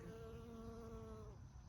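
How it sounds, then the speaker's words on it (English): Bees hum steadily while pollinating plants in a garden with watermelon vines, a close, continuous drone with a stable pitch that cuts off near the end. "You can hear the bees."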